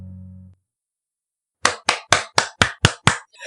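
A person claps seven times in a steady, fairly quick rhythm, each clap a sharp, close, loud slap. A short low hum comes first and is followed by a second of silence before the claps begin.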